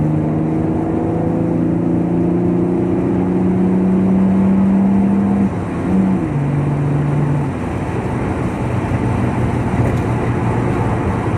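Toyota Supra Turbo, a big GT car, driving with a steady engine drone that shifts pitch as it moves through gears, loud and close from inside the car over constant road noise, with no talking.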